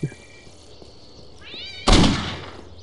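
A cat meows once inside the Postal 2 video game, a short rising call, followed by a sudden loud burst of game noise.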